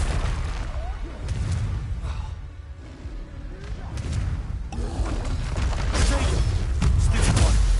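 Confringo blasting spell explosions in Hogwarts Legacy on PS4, deep booming blasts with crackling bursts over a busy combat soundscape, growing louder toward the end.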